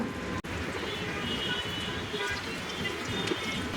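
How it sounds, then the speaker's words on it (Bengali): Jackfruit seed kebabs shallow fry in half-depth oil, a steady dense sizzle and crackle throughout, fairly close, with brief talk over it. "এর মধ্যে দিয়ে এগুলোকে আমি ভেজে নিব পুরাটা ডুববে না"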